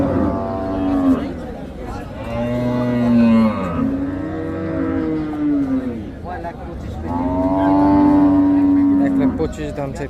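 Cattle and bulls at a village livestock market in Bangladesh, low drawn-out moos repeating several times close by, with people talking in the background between the calls.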